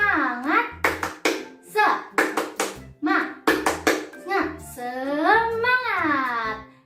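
A classroom of children claps a rhythmic 'tepuk semangat' cheer, sharp bursts of claps in a patterned beat alternating with children chanting along, ending in a longer sung phrase.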